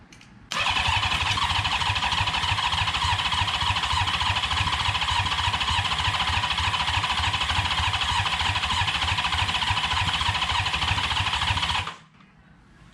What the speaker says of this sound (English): I'm gonna turn on the chokes. Okay. All four of them? Yeah. So it's gonna run at a very high idle